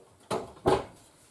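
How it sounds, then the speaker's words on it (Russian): Meat pies going into a home oven, with two quick close knocks and thuds of the oven door and tray, quiet and brief. "Ну а теперь пирожки с мясом в духовку на 20 минут."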